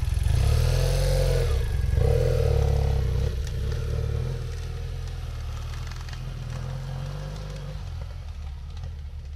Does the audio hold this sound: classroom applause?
no